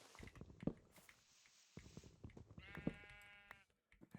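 Sheep bleating in the Minecraft video game, two short nasal bleats over steady soft footsteps and background game sounds, fairly close.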